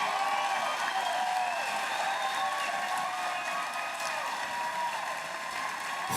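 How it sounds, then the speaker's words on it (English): An MMA event crowd applauds a fighter after a bout, steady dense clapping filling the venue for several seconds with a few faint cheers mixed in. "Give him a big round of applause for this unbelievable fight."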